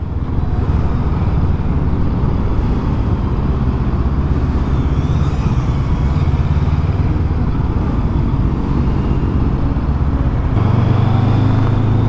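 A 2024 Honda big bike with E-Clutch rides along, its engine a steady, loud drone with continuous road and wind roar and a slight shift in tone near the end.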